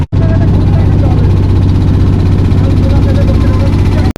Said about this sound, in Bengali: আমাদের এই ইঞ্জিন চালিত বোটটি এখন হচ্ছে তত্তর করে এগিয়ে যাচ্ছে পানি কেটে